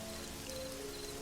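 Rain falling in the game Black Mirror III, a steady hiss of downpour with a faint tonal ambient hum underneath, brief and even.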